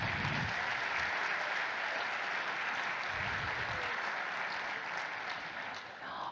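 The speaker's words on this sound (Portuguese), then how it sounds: "Uma salva de palmas" An audience at a corporate big-data presentation applauds to welcome a legal director, a moderate, continuous wash of clapping that slowly thins toward the end, with a few low thumps in the room.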